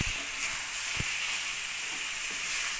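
Spiced chicken pieces fry in a pan with a steady, close sizzling hiss, broken by a few dull knocks of stirring, and no voices.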